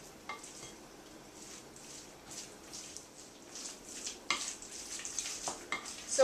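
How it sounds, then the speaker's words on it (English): Mayonnaise being stirred by hand into grated cheese for homemade pimento cheese, a soft, close, continuous scraping and squishing with light clinks of the utensil and no talking. "So you add your mayonnaise and stir it all around and get it in the cheese there."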